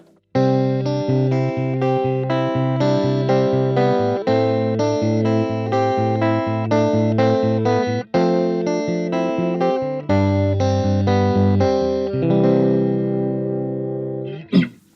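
An electric guitar plays through a reissue Fender '68 Vibro Champ amp with the tremolo and reverb off. Clean, sustained chords change in rhythmic patterns and are heard loud and close, ending in a final ringing strum.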